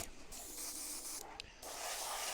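An airbrush sprays a black base coat onto a 1/6 scale Armortek Hetzer Jagdpanzer 38 model, giving a steady close airy hiss with a short dip in the middle before it resumes.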